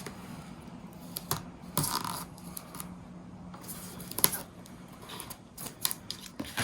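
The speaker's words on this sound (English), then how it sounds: "I'm now putting score tape on the outside of the fold right here" Score tape pressed and smoothed along the outside of a paper folio fold, a string of close, crisp crackling and tearing sounds in quick irregular bursts, with no talking.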